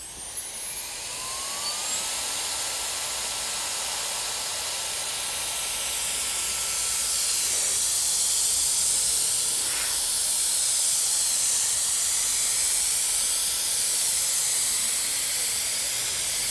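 A TikTok-style blower dryer blasts a steady, loud rush of air with a high whining hiss. The whine wavers slightly in pitch while the blast holds constant for the whole stretch.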